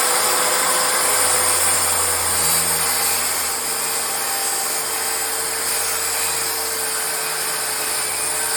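A circular saw cuts a bevel or miter cut through wood, a loud continuous high-pitched whine with motor drone holding steady for several seconds, with no talk over it.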